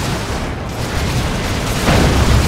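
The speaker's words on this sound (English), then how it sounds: "Manticore Strike on the Chaos Sorcerer's face" A Manticore artillery strike lands in Dawn of War 2 as a loud, dense roar of blast noise that fills the whole stretch and swells slightly near the end.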